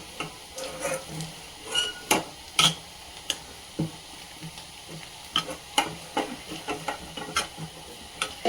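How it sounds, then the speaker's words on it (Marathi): Besan mixture stirred in a pan with a spoon, giving a steady run of scraping and tapping strokes against the metal over a soft sizzle, close and fairly loud with no talk. "आणि त्याला छान मिक्स करून घेऊया."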